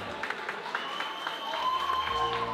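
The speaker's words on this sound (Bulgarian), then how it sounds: "аплодисменти за нея" An audience applauds a participant from Veliki Preslav at a school event, a moderate wash of clapping that swells toward the end, with a sustained tone and a voice over it.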